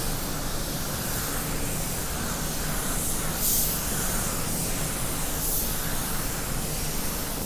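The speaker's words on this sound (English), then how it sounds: "I'm always spraying, I'm always moving the spray gun" Continuous hissing of a paint spray gun applying a second coat, a steady broadband rush close by with slight surges, no talking.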